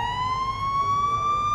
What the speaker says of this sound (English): Check out the sirens real quick.